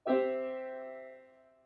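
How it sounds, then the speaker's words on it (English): A single chord is struck and rings out cleanly, its tones sustaining together and slowly fading in a quiet space. "Your opening chord sounds like this."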